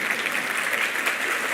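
Congregation applause at a church sermon, a steady dense clapping from a crowd that holds evenly through the whole short stretch with no speech over it.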